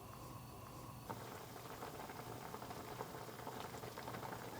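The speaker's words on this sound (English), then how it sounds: "this is starting boiling" Pickling liquid for loquats bubbling at a steady boil in a pot, a continuous dense pattering of bursting bubbles, close and fairly loud, with no voices.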